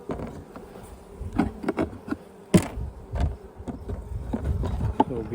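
Honey bees in a small colony hum softly during a hive inspection in British Columbia, with a low continuous buzz and occasional louder passes near the listener, mixed with faint knocks and handling clatter.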